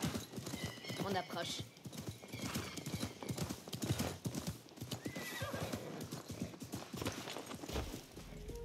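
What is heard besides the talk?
horse hooves and whinny in video game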